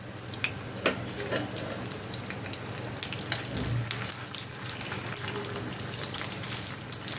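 Folui fish kofta frying in a pan of oil, a continuous close sizzle with scattered pops and crackles.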